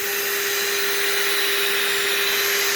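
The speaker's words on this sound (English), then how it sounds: "You can hear the pump running." An electric air pump inflates a La-Z-Boy SlumberAir mattress, giving a steady, close, continuous whirring drone with a constant hum and no pauses.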